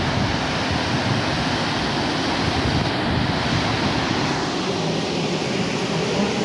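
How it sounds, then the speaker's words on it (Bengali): Rushing water current at Bhimkund roars steadily and loudly, a dense unbroken wash of noise with some wind buffeting the microphone and no talking. "জলের স্রোতটা কি দেখো"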